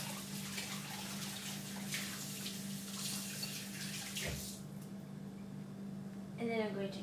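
An insulated cup is washed under a running tap, a continuous close hiss of flowing water with a low hum beneath it that cuts off near the end, followed by a brief voice.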